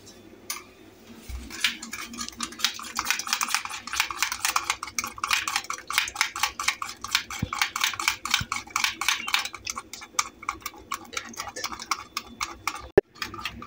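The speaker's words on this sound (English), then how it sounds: "So what we're gonna do first is crack the egg. We're gonna whisk this." A fork or whisk beats a cracked egg in a bowl, giving a fast steady ticking of metal against the bowl that continues for over ten seconds at moderate volume.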